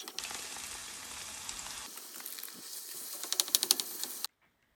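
Onion and garlic fry in olive oil on a stove, a steady close sizzle with dense crackling that thins out partway through, then a brief flurry of sharper spits before it stops abruptly.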